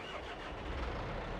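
A John Deere tractor engine starts up in Farming Simulator 22, a steady mid-pitched mechanical rumble that holds evenly throughout with no talk over it.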